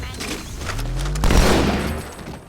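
Rapid bursts of gunfire from a new weapon in the video game Halo 2, loud and close, swelling into a heavier blast midway before trailing off amid game effects.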